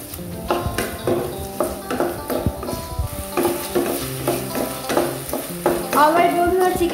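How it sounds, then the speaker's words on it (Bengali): A utensil stirs chicken frying in a pan for a chicken cheese pasta bake, with repeated scraping strokes and metallic clinks over a steady sizzle, close and clear. "আমার কিন্তু চিকেনটা প্রায় হয়ে আসছে, এখন এটা আমি আরেকটু নেড়ে চেড়ে নিব"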